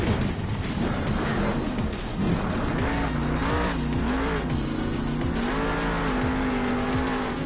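The Crush Station monster truck roars around a Monster Jam arena in Salt Lake City, its engine revving up and down in repeated surges with tire noise, loud and sustained over a crowd-filled background.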